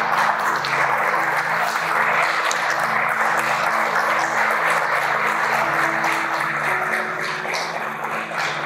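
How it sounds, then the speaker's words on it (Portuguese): A church congregation applauding during an evening service, a continuous, full wash of clapping that holds steady throughout, with a faint sustained tone underneath. "Dê uma salva de palmas para o Senhor nessa noite"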